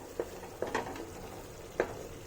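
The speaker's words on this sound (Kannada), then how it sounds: "ಟೊಮ್ಯಾಟೊ ಹಸಿ ವಾಸನೆ ಹೋಗೋ ತನಕ ಹುರಿಬೇಕು." Tomato puree frying with onions in a pan for rajma masala, with a soft steady sizzle and a few sharp scraping stirs of a utensil against the pan.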